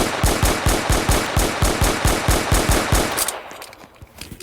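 A rapid burst of automatic gunfire, about a dozen loud, evenly spaced shots over three seconds, then a quieter stretch with a few scattered sounds.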